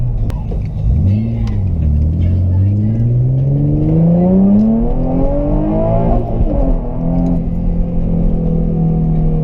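A Nissan 350Z engine pulls away and revs up through the gears, pitch climbing steadily before a clutch shift drops it and it climbs again, loud and close inside the car, with occasional voice.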